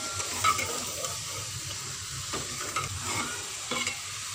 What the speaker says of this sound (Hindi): अब इसमें ये फलियां डाल देंगे। इनको भी हम फ्राई करेंगे।